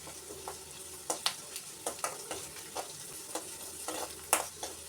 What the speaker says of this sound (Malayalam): ഇത് നന്നായിട്ട് വഴന്ന് വരട്ടെ.